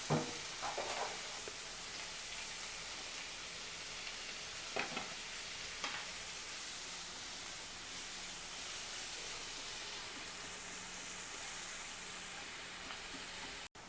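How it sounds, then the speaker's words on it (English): Tomato frying in a pan for homemade cheese pasta gives a steady, close, hissing sizzle, broken early by a few stirring scrapes and clacks. "And now we are putting the tomato. Let it fry for some time."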